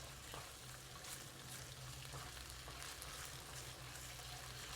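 Ketchup and sugar fry together in a pan over medium-low heat, a faint, even sizzle that continues without a break and without speech.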